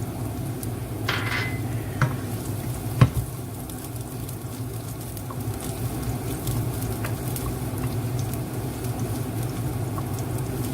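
Garlic frying in a small amount of oil in a pan, a steady soft sizzle with a few light clinks of utensils against the pan.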